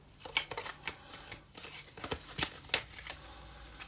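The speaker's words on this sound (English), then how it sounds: "Let me give these a bit of a shuffle." Board game countryside tiles for Mage Knight are shuffled by hand, giving irregular clattering and sliding clicks in quick bursts, close and fairly quiet.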